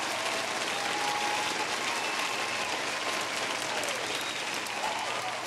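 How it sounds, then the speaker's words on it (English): A dense, steady round of applause from an audience fills the space at even loudness, with a faint crowd murmur mixed in and no speech over it. "I'll give that a round of applause."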